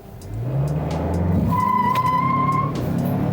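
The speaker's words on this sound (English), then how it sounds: "I'm just gonna do a quick launch" Launch of a 2020 Mazda CX-5 compact SUV with a 2.5-liter turbocharged four-cylinder: loud, steady engine roar climbing in pitch from a standstill, with a sustained tire squeal partway through, close and continuous with no talk.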